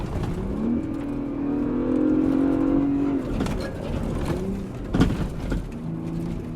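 A 2024 Ford Bronco Raptor accelerating hard from inside the cabin, a deep engine drone rising steadily in pitch, then a gear change and renewed pull, with road and tire roar underneath.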